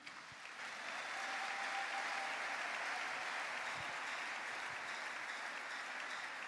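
A church congregation applauding God during a worship service, sustained loud clapping that swells after a second and holds steady throughout, with faint voices in the crowd.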